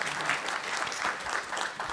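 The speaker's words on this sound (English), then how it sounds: "clap if you want to" A crowd at a TwitchCon panel breaks into clapping, a dense, steady wash of hands close and fairly loud, with a few pulses of stronger claps rising through it.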